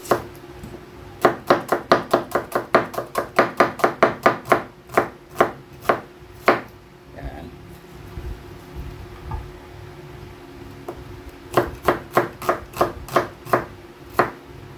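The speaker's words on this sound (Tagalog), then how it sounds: "Kaili, slice na natin yung sibuyas." Onions being sliced with a knife on a cutting board for a pork ensalada: bursts of quick, rhythmic crisp chops with short pauses between runs, close and clear with no talking.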